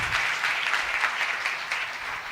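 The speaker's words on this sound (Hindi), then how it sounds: "और जोरदार तालियां बजाएं पाकलाम के लिए।" Church congregation applause for the Bible at a sermon service, loud and continuous clapping from many hands, close and dense with a steady flutter of individual claps.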